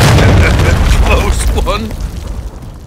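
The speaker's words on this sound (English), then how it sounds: "Hostiles launched the cruise missile." A cruise missile explodes in the Call of Duty: Modern Warfare III video game. It opens as a heavy, loud boom, then a rumbling roar slowly fades over about two seconds while a voice talks over it.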